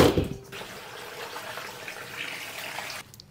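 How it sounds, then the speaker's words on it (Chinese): Water runs steadily into a pot to blanch chicken heads, with a splashy start that settles into an even pour and then stops. "鸡头给它焯一下水。"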